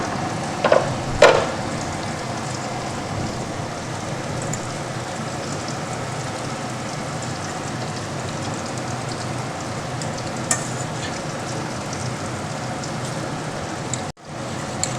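A steady, close sizzle of snake gourd frying in a pan as ground coconut-garlic spice is stirred in, with occasional scraping and clinks of stirring, and no one speaking.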